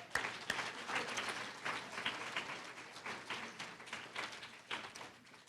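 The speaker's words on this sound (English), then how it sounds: "You all deserve a round of applause and special recognition." An audience at an academy celebration gives learners a round of applause, a fairly sparse crowd clapping with individual hand claps audible, rising and falling in waves across several seconds.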